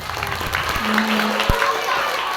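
Schoolchildren at an elementary school Isra Mi'raj commemoration clap together in a dense, steady patter of small hands, mixed with crowd chatter and a brief voice partway through.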